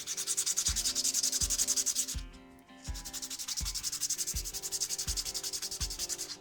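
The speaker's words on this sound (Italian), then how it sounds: "Adesso andiamo a levigare." A Parkside PMGS 12 D4 rotary tool sands with 220-grit abrasive, giving a loud, steady high whine broken by a regular pulsing rhythm, with a brief dip partway through before it resumes.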